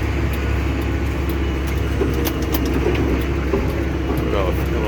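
A John Deere tractor pulling a Krone 1290 baler rolls slowly in 7th gear, a loud, steady low engine drone with rattling machinery noise and no letup.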